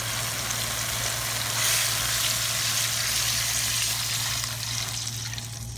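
Water pours steadily into a cooking pot for an Arab soup, a continuous rushing hiss over a low steady hum.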